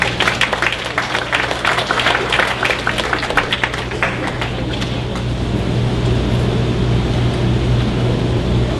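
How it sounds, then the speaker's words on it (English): Audience at a school graduation ceremony claps for a student walking up to speak, a moderately loud patter that thins out midway and gives way to a steady low hum of the room. "A round of applause, please, as she comes forward"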